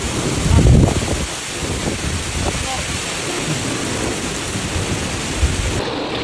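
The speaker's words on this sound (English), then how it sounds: "Other regions experienced severe downpours and thunderstorms" A severe summer thunderstorm in Poland brings heavy rain hissing steadily throughout, with a loud rumble of thunder near the start and a softer one near the end, wind buffeting the microphone.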